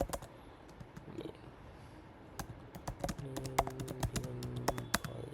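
Typing on a computer keyboard into a website form, quiet close key clicks that start sparse and become a faster run of taps toward the end.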